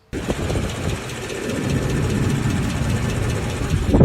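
A Ford 5.4L 3-valve Triton V8 truck engine runs steadily close up, with a deep, continuous rumble and a faint rhythmic lope throughout.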